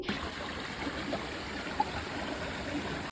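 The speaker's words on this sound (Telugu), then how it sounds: "ఆ వాటర్ సౌండ్కి మైండ్ మొత్తం రిలాక్స్ అయింది" Dawson Falls in Canada, heard as a faint, steady rushing and trickling of water at a distance, with a few small splashy gurgles rising briefly above the even flow.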